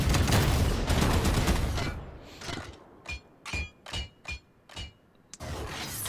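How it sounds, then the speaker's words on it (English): Machine gun and rocket fire from a Mantis mech in Halo 5: a dense, loud continuous burst of gunfire, then a series of about six separate heavy booming shots spaced roughly half a second apart, ending in another sustained volley. "The main machine gun and the rockets."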